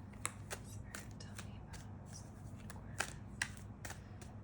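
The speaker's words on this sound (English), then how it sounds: "I'm shuffling my cards in the background," Tarot cards being shuffled in short crisp riffles and flicks, several quick bursts spread across the clip, close and fairly quiet over a low background hum.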